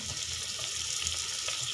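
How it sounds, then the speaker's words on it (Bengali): Potatoes frying in oil with salt and turmeric, a steady close sizzle with faint stirring scrapes running evenly through the short stretch. "আলুটা লাল লাল করে ভেজে নেব"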